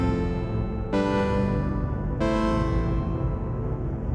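Pitched-down granular texture from a Sonicware Texture Lab set to a smaller grain size, a dense, sustained drone with two sharp new onsets that each ring out and thin at the top, alone and fairly quiet.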